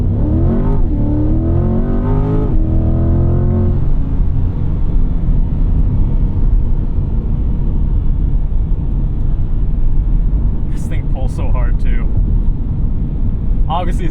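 A 2024 Chevrolet Corvette C8 Z51 under hard acceleration, its engine climbing in pitch through rising gear sweeps, then a steady loud rumbling drone with road noise, heard from inside with a voice speaking early on.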